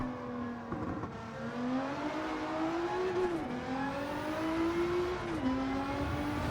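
A Nissan GT-R race car in Gran Turismo 7 at Tokyo screams down a straight, its engine note climbing steadily through the gears with brief dips at shifts, loud and continuous with no talk.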